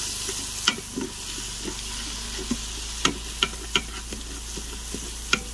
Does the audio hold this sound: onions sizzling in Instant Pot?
yes